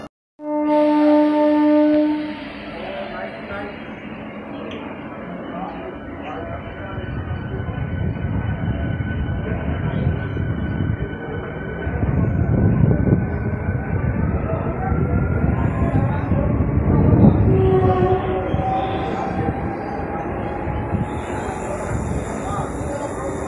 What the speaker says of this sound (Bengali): এটা সেই তিন রাত কাটিয়ে আসছে এই ট্রেনটা